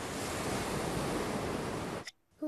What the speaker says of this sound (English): Wow, I can hear the sea.